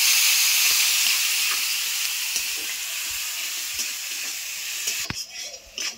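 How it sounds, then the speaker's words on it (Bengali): Finely chopped onion frying in a pan for a rohu fish posto dish, giving a steady, loud broadband sizzle throughout, with a few stirring clatters near the end and no talking. "এখানে আমি মিহি করে একটা বড় পেঁয়াজ কুচিয়ে নিয়েছি, এটা দিয়ে দেবো। এটা একটু আমি লাল লাল করে ভেজে নেবো।"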